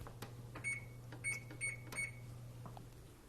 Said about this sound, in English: I'll set the oven for 40 minutes.